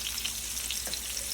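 Garlic butter pork chops searing in a hot pan, a steady bright sizzle and crackle filling the short stretch without pause, close and even in level.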